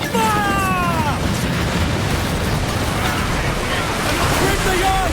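Ship cannons boom in Assassin's Creed Black Flag amid a constant roar of sea and wind, heavy low rumbles rolling under shouted commands from crew voices.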